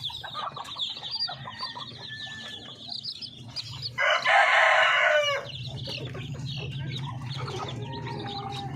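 Native chickens and chicks in a brooder cluck and peep close by throughout, with a loud crow bursting out midway before the steady clucking resumes.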